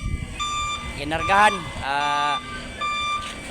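A truck reversing gives repeated steady electronic backup beeps in a regular on-off rhythm, close and clear, while someone talks loudly over them.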